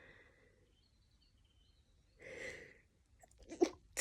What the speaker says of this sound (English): I'm gonna sneeze, getting some gremlins out.